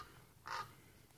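A single short crow-like caw rings out faintly in the distance at an abandoned desert site in California, alone against quiet background noise.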